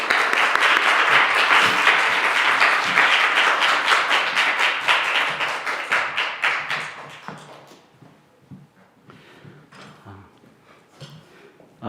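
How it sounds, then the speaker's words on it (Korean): Church congregation at a Sunday youth worship service in Seoul applauding in welcome, dense steady clapping for about seven seconds that then thins into scattered claps and fades, with faint voices at the end. "환영의 박수 쳐야 되지 않겠습니까?"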